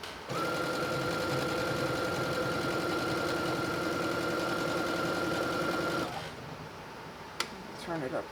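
A sewing machine cranked to its highest of three speeds while making fabric scrunchies, a loud steady motor whir with rapid needle chatter for about six seconds, then it stops, leaving low hum and a single knock.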